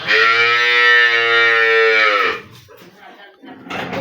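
A dairy cow for sale gives a long, loud, drawn-out moo lasting about two seconds, followed by quieter background sounds and faint voices.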